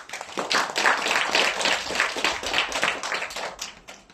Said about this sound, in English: Let's call upon Magical Maisa with a huge round of applause